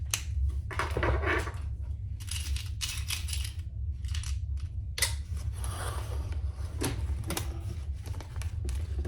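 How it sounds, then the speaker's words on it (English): A sewing machine stitches a backpack seam at a half-inch allowance while sewing an Ansel backpack pattern. It runs in close, clattering bursts separated by short pauses, with no talking. "let's sew this at a half an inch"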